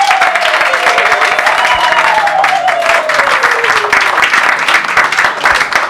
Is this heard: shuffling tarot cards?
no